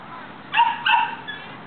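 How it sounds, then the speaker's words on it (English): A Coton de Tulear dog barks twice inside a house, muffled and moderately distant, two short yips about a third of a second apart. "That's Mommy barking inside the house."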